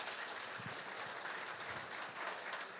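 A live training-program audience claps loudly and steadily throughout, a dense wash of many hands with no voices over it.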